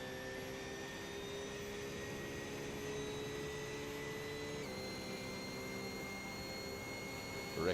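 A GT3 race car engine holds a high, steady whine at heavy revs in sixth gear during a sim racing league race at the Daytona road course. The drone is constant and loud, with a slight pitch shift midway.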